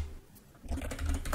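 Quick typing on a computer keyboard as a terminal command is entered, close and clear, a short burst of soft key clicks with no talk.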